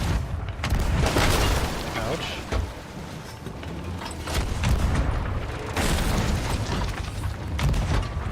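Booming ship cannon fire and impacts in Sea of Thieves, heavy low thuds over a constant roar of sea and wind, with a man's brief exclamation.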